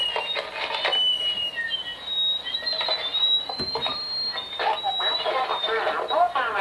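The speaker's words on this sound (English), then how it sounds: "I'm going to turn my scanner on and I'm going to tell it to scan the frequencies from 900 to 925" A Radio Shack scanner sweeping the 900–925 MHz band and locking onto a cordless phone, giving continuous hissy static with faint warbling tones and brief chirps at a steady moderate level.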